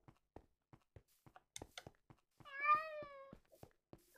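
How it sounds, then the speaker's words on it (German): Cat meowing in Minecraft: one clear, drawn-out meow in the middle of a quiet scene, between soft footsteps and small game clicks, with no talk. "Haufen Katzen haben wir hier auf einmal in der Nähe."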